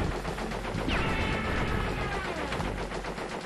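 Sustained rapid gunfire aimed at blimps in Crash Bandicoot 3: Warped, a dense rattling stream of shots over a loud game soundtrack, with no voices.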